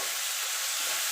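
Spice masala with tomato and a little sugar sizzles steadily in a hot pan for a Bengali jackfruit curry, a continuous close hiss with light stirring and no voices.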